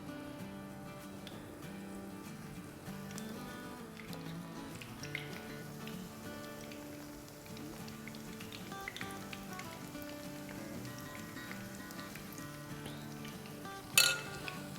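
Chicken tikka kababs fry gently in oil in a pan over medium-low heat, a soft continuous sizzle with occasional faint clinks and one sharper knock near the end.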